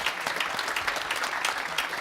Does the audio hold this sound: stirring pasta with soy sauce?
no